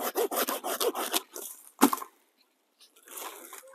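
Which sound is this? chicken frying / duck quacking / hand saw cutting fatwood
hand saw cutting fatwood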